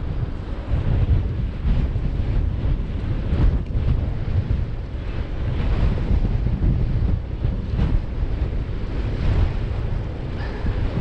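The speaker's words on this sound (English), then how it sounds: "Oh, that's a strong left wind." Strong, continuous wind buffets the microphone at Chanonry Point on the Scottish coast, a dense, steady roar with the sea mixed in beneath it and no voices.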